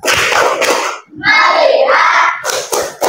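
A group of children in a classroom claps in quick bursts, with a stretch of chanted voices in the middle before the clapping returns.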